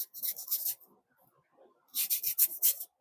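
A knife slices through a mango along the seed in two short bursts of scraping, rasping strokes, close and clear with a quiet pause between them.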